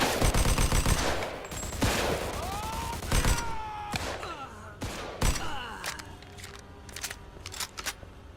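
Gunfire in the Mafia 2 video game, rapid sharp shots in clusters and single cracks with ricochet whines, loud and close at first, then sparser bursts fading in intensity.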